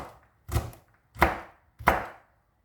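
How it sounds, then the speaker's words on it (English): Three firm knife strokes through mango on a cutting board, cutting it into small cubes, each a sharp close thud with a brief fading tail, spaced evenly with quiet gaps between. "So I'll go chop up the mangoes and come back."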